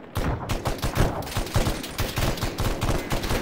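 Machine guns laying down suppressing fire: a dense, continuous rattle of overlapping shots, loud and close, running steadily throughout with no talk.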